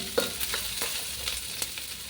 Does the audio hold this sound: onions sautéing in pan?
yes